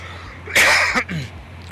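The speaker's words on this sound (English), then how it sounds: "Excuse me for coughing again." A single sharp, explosive cough close by, followed by a short raspy breath.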